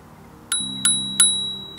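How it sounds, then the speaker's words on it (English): A small bicycle-style bell on a PhantomGoGo R1 rings three times in quick succession, bright metallic dings that each linger and overlap, close and clear with no talking. "Look, it has a little bell too."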